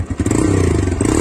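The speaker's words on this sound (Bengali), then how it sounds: "আমাদের এক্সস্টের সাউন্ডটা শোনাই" A TVS Raider 125 motorcycle idles just after starting, its exhaust giving a steady low, close-up thrum with light mechanical clatter, no voices over it.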